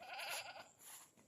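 Brief goat bleat on a farm, a wavering, nasal call lasting about half a second, followed by a softer second bleat, fairly quiet and heard alone.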